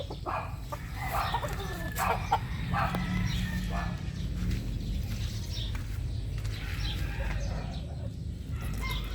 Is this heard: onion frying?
no